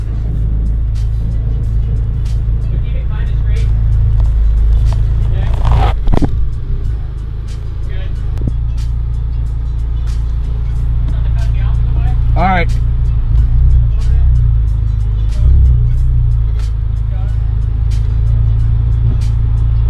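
Honda Type R fitted with an HKS exhaust idling and creeping in reverse out of a garage, a steady close low engine rumble throughout with people talking over it.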